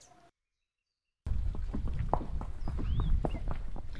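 Horses clip-clop along in a Playmobil film, their irregular hooves knocking close and clear after a brief silence, with faint birdsong high above.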